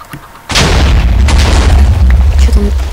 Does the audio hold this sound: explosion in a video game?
yes